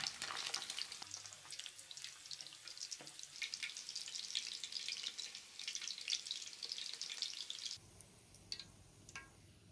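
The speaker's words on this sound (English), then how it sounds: "Deep fry the other meatballs as well." Meatballs deep frying in hot oil for Japanese meatballs, a steady loud bubbling sizzle with crackles throughout, dropping to a quieter simmer near the end; no talking.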